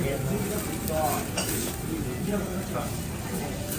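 Thin slices of yakiniku meat sizzle steadily on a grill at a Japanese barbecue dinner, a continuous close frying hiss with occasional clinks of tongs and dishes, while people talk in the background.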